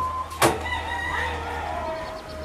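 A street hen with her chicks, a few soft clucks and chirping calls at moderate distance over a low background hum, with one sharp thump early on.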